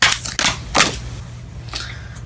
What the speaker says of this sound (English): Okay, we're gonna shuffle one more.